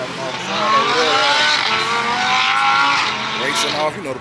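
Cars at an evening car meet race off with rising engine roars and a tire squeal, several vehicles revving loudly and fairly near, with people talking over the noise.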